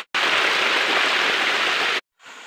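Rushing river water during a crossing in a Kalimantan forest, a steady broadband wash that holds loud and close for about two seconds, stops abruptly, then resumes more faintly.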